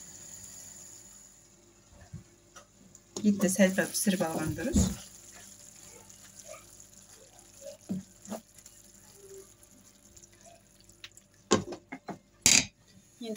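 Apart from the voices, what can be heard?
water poured over meat in pan to stew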